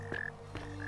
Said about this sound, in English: There's a frog croaking somewhere back there.